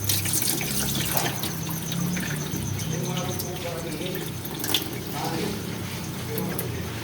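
Tap water runs into a pot or bowl while pork adobo is cooked with kalamansi, a steady splashing stream under a kitchen hum, with a person talking alongside.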